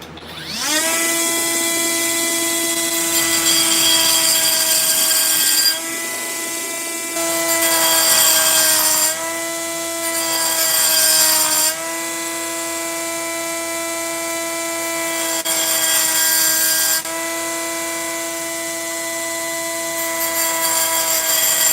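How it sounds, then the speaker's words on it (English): An angle grinder cuts into agate stone with a sustained high whine that shifts pitch as the load changes, broken by short pauses and then resuming, loud and close with no talking. "so we can draw a line with the grinder up that way and off this way and off that way"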